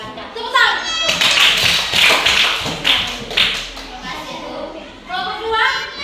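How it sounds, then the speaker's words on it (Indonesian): Children in a classroom clap after a group finishes a task, a burst of scattered, uneven claps with taps and thumps mixed in, close by, with kids' voices chattering before and after. "Tepuk tangan."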